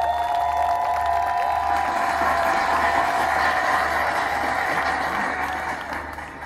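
Sustained applause from a large crowd at a closing campaign rally, a dense steady roar of clapping and cheering with a rhythmic thumping underneath, tapering slightly near the end.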